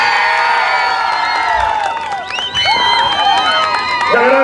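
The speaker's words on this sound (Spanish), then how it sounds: "¡El aplauso a la número uno!" Crowd at an outdoor dance contest in San José de Gallinas cheering, whooping and shouting loudly, with applause and excited voices filling the scene throughout.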